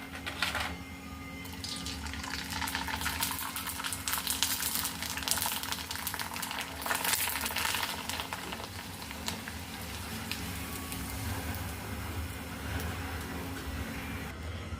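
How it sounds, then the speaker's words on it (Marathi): Semolina papads frying in very hot oil, a continuous bubbling crackle that swells and fades over several seconds, close by with no voices. "तेल तापला ना जास्त आपल्याला तेलामध्ये जास्त वेळ ठेवायची गरज पडत नाही पटपट असे तळून आपले पापड रेडी होतात"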